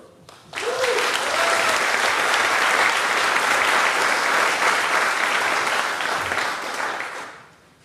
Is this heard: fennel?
no